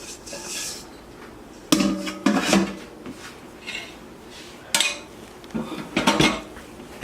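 A bowl of dough flipped over onto a clean kitchen countertop, giving several sharp clattering knocks and scrapes of bowl against the surface, close and fairly loud, with quieter handling between them.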